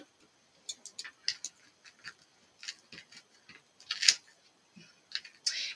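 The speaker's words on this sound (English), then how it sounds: "Let me cut this off." Scissors make a few quick, crisp snips while cutting material for a flower-vase wreath, with scattered clicks and rustles between the cuts, all close and moderately quiet.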